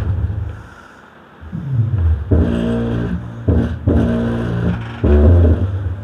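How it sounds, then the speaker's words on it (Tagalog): A repaired subwoofer pumps strong, deep bass in loud pulsing bursts with short gaps, the low booming tones close and heavy. "Lakas ng bass."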